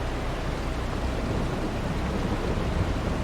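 Rain in the Farming Simulator 22 video game, a dense, steady wash of rainfall with a low rumbling undertone, even and continuous from start to finish with no voices.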